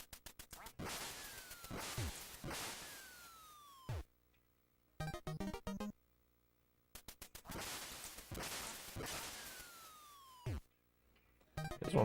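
Synthesized duck quacks and gunfire-like cracks from the Duck Hunt video game come in dense, repeated bursts, loud and electronic, broken by short quiet gaps and brief musical blips.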